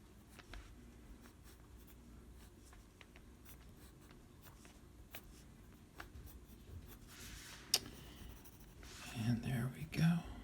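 Pencil drawing straight lines on paper for a comic-character sketch, soft scratchy strokes repeating close up in a quiet room, with a louder brush of movement near the end.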